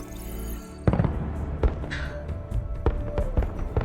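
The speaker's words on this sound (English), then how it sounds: "Holographic fireworks, I love it." Holographic fireworks in Horizon Forbidden West crackle and pop in a scattered series of sharp bursts, with a whistling tone rising between them against a quieter game backdrop.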